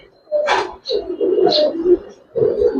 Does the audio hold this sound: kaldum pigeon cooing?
yes